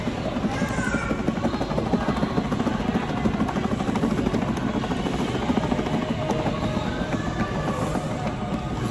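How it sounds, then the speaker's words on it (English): A helicopter's steady, rapid rotor thumping fills the scene at a Disney resort, loud and continuous as it passes overhead with a constant engine drone. "There's a helicopter."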